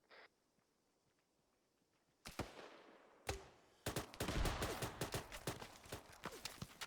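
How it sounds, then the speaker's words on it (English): Gunfire in the Arma 3 military game during a rifle patrol training session: a couple of sharp isolated shots, then a dense run of rapid cracks and bursts, fairly distant and sharp against a quiet background. "Shots coming in northwest, or is that someone shooting?"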